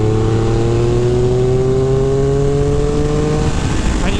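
A 2023 Triumph Speed Triple 1200 RR, a 1200 cc street-legal race bike, accelerating hard with a loud, close engine whose pitch climbs steadily through the rev range, alone with no talk.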